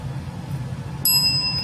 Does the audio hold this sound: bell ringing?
yes